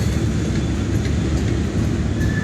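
A train comes off the Pinny branch line. A loud, continuous rumble of rolling wagons holds steady throughout, with a thin wheel squeal near the end.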